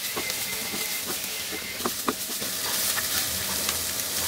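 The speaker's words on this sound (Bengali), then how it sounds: "এখন এর মধ্যে কাঁচামরিচ কটা দিয়ে দিব, একটু আধা মিনিটের মতো একটু নাড়াচাড়া করে নেব" Green chillies frying in a pan while being stirred, a steady hissing sizzle with scattered scraping clicks of the spatula, close and continuous.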